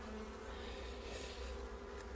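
Honeybees hum steadily in a small nucleus hive, a close, continuous buzz that holds the same level throughout with no voices.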